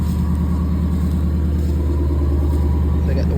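A Ford Maverick idles just after starting up to warm, a steady low rumble with a faint whine above it and no change in pace.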